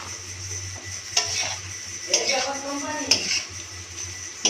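Pasta and softened tomato being stirred and mixed in a pan, with several distinct clinks and scrapes of a utensil against the pan over a steady low hum, fairly close.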